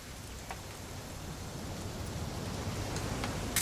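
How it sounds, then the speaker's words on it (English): Steady rain in the video game What Remains of Edith Finch, a continuous wash of falling drops at even volume with a brief sharper patter near the end, heard alone without speech. "It's gonna rain the whole weekend"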